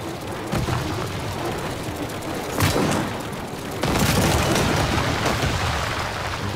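Cannon fire from a futuristic battle tank in the Trailmakers video game: a dense, rumbling stream of shots and booms, moderately loud and continuous, swelling in the last few seconds.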